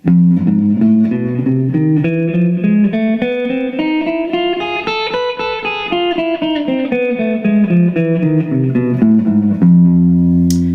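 Guitar plays the Lydian sharp 2 sharp 6 scale, mode 1 of double harmonic minor, as a clean run of single notes climbing steadily and then descending, loud and close with no voice.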